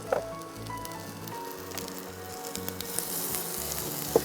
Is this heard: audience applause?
no